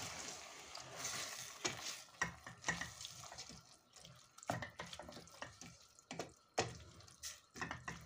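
Grape leaf stew with fresh herbs and bulgur being stirred in a pot after water and salt go in, wet sloshing and scraping strokes arriving in uneven bursts, close and soft.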